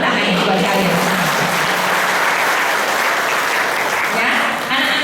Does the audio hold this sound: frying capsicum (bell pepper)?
no